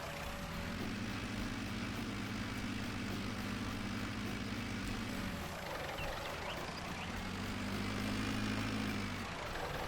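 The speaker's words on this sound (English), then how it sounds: "We can back the tractor up here and just do the final little pass." A tractor engine in Farming Simulator 19 drones steadily and close, a low harmonic hum that dips briefly mid-way as the machine backs up, then settles back into the same even rumble.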